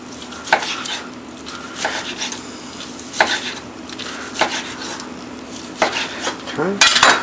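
A knife slices jerked turkey into thin medallions on a board, with sharp, irregular cuts and scrapes ringing out close by alongside light clinks of cutlery, and no one talking.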